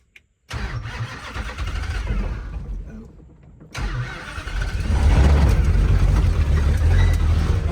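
A Dodge Dart V8 with a four-speed manual cranks and fires, then settles into a loud, lumpy idle that falls briefly before rising again into a fuller, heavier rumble, heard close and clear; a person speaks briefly.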